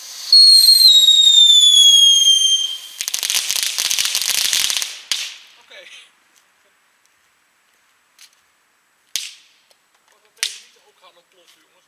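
A disco fountain firework erupts loudly for several seconds with a bright hissing spray, after a whistling rise at the start. It cuts off, and a few sharp crackles follow in the quiet. A person says a single word.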